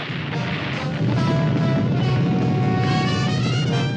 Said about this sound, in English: I guess when the energy mass hit the planet's core, it caused a cosmic explosion.